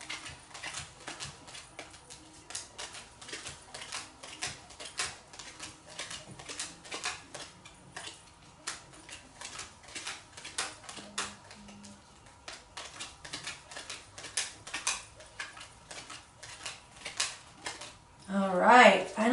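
Tarot cards being shuffled by hand, giving a dense run of soft rapid flicks and riffles that continues for most of the stretch, fairly close and moderately quiet, with a louder burst near the end.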